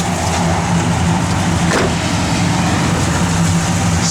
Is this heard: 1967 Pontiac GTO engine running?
yes